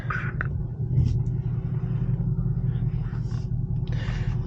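A 2022 Ford Mustang GT with an airbox modification driving along, its V8 engine giving a deep, steady rumble up close with a few faint higher rattles and clicks over it and no speech.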